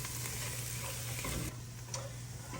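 Onions stirred as they fry in a pan for beef stroganoff, a steady soft sizzle with faint scraping, even and close throughout.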